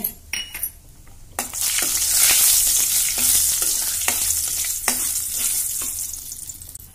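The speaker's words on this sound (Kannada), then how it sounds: "ಈಗ ಇವನು ಕಾಜು ಒಂದು ಸ್ವಲ್ಪ ಹುರ್ಕೋತೇನೆ." Cashews fry in a spoonful of oil in a kadai, a loud, bright sizzle that rises after a few early clinks, with a spoon tapping and scraping against the metal pan at intervals.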